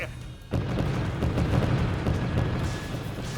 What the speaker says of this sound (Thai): มิสไซล์กำลังระเบิดกลางอากาศอย่างนั้นเหรอ